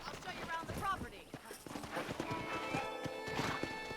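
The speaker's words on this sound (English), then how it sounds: "let's see if you can still ride a horse" Horse hooves clip-clop at a riding pace in Red Dead Redemption, with a neigh and game dialogue voices over the rhythmic hoofbeats.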